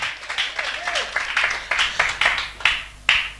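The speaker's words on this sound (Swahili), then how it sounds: "Pigie Bwana Yesu makofi mazuri sana hapo." A church congregation claps in a steady, even rhythm for Jesus during a worship service, sharp claps landing about three times a second, with a voice briefly audible underneath.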